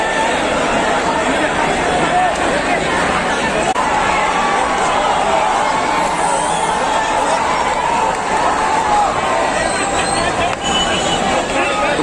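A large crowd at a Mumbai Ganpati arrival procession gives a dense, continuous roar of chatter and shouting, loud and close, holding steady throughout without a break.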